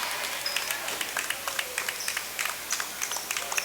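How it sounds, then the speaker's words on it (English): Crowd at a boys varsity high school basketball game, a scattered patter of clapping with sharp irregular claps and a faint murmur of cheering in a gym, heard from moderate distance. "You hear a big cheer go up from the crowd across the way there when they all got up off the bench."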